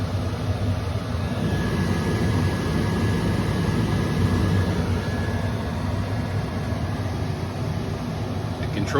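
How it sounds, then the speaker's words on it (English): The air conditioning blower in a 1970 Buick GS455 runs steadily, a constant close rushing hum of moving air with a faint tonal whine and no pauses. "If you so choose, you can also move it to the floor. Blowing down the floor."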